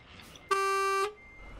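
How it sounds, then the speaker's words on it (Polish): Truck horn in the video game Euro Truck Simulator 2, a single clear steady honk lasting about half a second, loud and close against quiet background. "Słyszałeś to? Co? No klakson."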